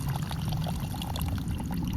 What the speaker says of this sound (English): You want to pour that juice inside of that cup.